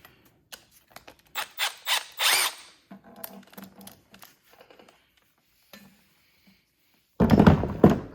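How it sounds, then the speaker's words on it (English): A 12 millimeter ratchet worked on a brake caliper bolt of a Yamaha Warrior 350 ATV, rapid clicking pawl strokes in bursts, then scattered metal clinks and a loud rough scraping burst near the end. "I'm just going to use a 12 millimeter ratchet."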